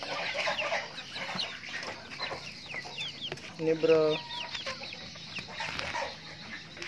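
Backyard chickens, hens and young birds around two to three months old, cluck and chatter in their coop, with one louder call rising midway over a busy background of bird noise and brief speech.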